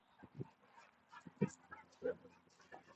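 An off-leash dog, a pit bull or American bulldog type, lets out a few sharp barks and whimpering yelps near a wolf pack, mixed with a person speaking hurriedly nearby.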